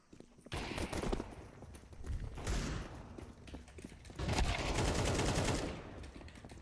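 Pistol rounds exchanged in a Counter-Strike 2 esports match, LilMix versus Astralis Talent: bursts of crackling gunfire at mid distance, a heavy flurry of shots near the end, with a caster talking over the action.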